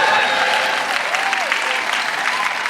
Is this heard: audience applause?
yes